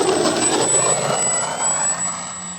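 An FMS Ranger 1800mm RC model airplane flying overhead, its electric motor giving a steady high-pitched whine and airy drone that stays fairly loud and slowly fades as it passes.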